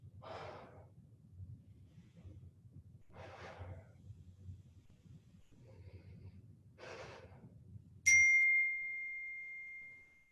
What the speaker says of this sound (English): I'm not quite sure what ding that was